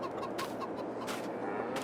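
Farmyard chickens in the video game Farming Simulator 22 cluck in short, rapid bursts close by, a busy flock sound with no one talking.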